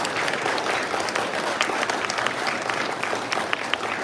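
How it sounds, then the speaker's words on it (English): Steady applause from a crowd during a live stream award segment, dense clapping throughout, fairly loud and continuous. "Round of applause."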